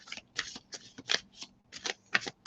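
A deck of tarot cards being shuffled by hand, a run of crisp riffling bursts in quick irregular rhythm, close and fairly quiet, with no talking.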